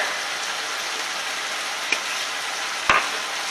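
Cabbage cooks down in a pan with a steady, moderate sizzle and crackle heard close up, broken by a couple of sharp taps of a utensil against the pan.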